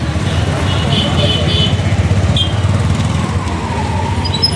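Idling and revving engines of a traffic jam of tractors and vehicles on a narrow two-way road in Dharan, a steady low rumble of motors filling the scene with a faint horn-like tone briefly above.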